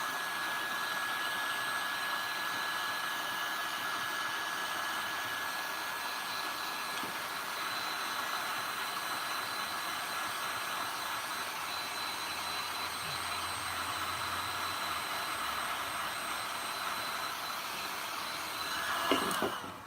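A hot air blower runs steadily, heating the back side of a small motor, a constant moderate whooshing hum with a faint high tone throughout and a brief bump near the end.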